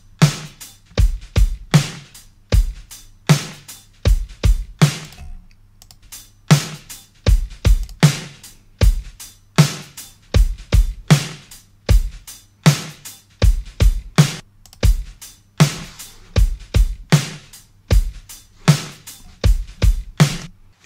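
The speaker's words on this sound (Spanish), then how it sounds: "Vamos a escuchar la batería desde el Pro Tools y luego desde el Boost Driver." Drum kit recording played back from Pro Tools, steady rhythmic kick and snare hits with cymbals throughout, loud and close with no talking.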